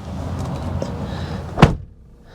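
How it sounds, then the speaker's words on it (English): A 2024 Chevy Silverado 1500 pickup door shuts with a single solid thud after a moment of quiet rustling, then the cabin goes hushed. "inside the cabin, we'll go ahead and shut the door."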